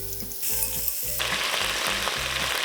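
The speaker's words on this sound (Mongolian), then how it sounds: "За тэгээд оливын тосон дээр махаа ар үүргүй шарж өгнө." Chicken pieces frying in olive oil in a pan while cooking a creamy chicken and potato soup, a steady bright sizzle that swells partway through, with faint rhythmic clicks underneath.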